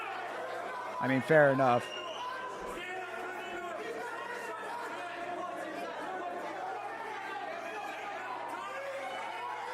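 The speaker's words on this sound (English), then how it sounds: "maybe they just got a really big crowd on this side that we can't see from the camera angle" Crowd murmur from a bare-knuckle fight event at BKFC 86, a steady distant chatter throughout, with someone talking briefly near the start.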